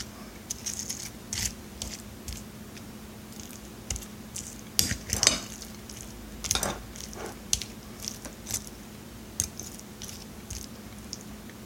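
Taco salad being tossed in an overfilled bowl, giving soft repeated squishing, scraping and clinking strokes at close range, irregular in rhythm, with no talk.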